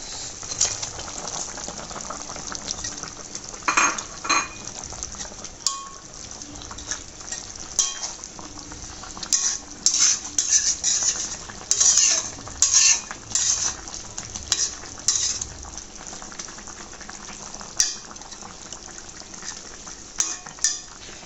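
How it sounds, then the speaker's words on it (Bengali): River tengra fish dropped into an eggplant curry simmering in a pot, with bubbling, stirring and clinks of a metal utensil against the pot over about twenty seconds; no talking. "আমি এখন মাছগুলো দিয়ে দেবো।"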